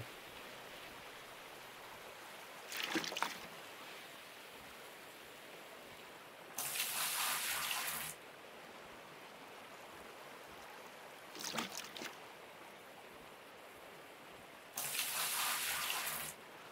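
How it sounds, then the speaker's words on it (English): Bucket of water poured into a hog pan in the Gold Rush video game: repeated bursts of splashing and pouring, with alternating short sloshes and longer rushing pours, four in all, separated by quiet pauses. "Go and get your bucket, dunk it in the water, and pour it into the hog pan."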